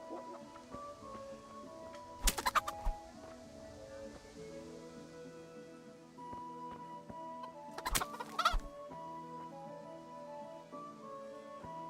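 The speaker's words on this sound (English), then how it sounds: "Give me the chickens." Chickens cluck in the medieval video game Kingdom Come: Deliverance, with two short bursts of clucking and squawking rising over a steady bed of game music and ambience.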